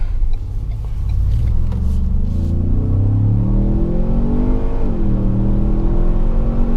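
A 2017 Ford Explorer Sport SUV with a 365 hp twin-turbo engine accelerates hard in sport mode, a steady loud engine drone rising in pitch through the gears with a brief dip at a shift, heard alone without talk.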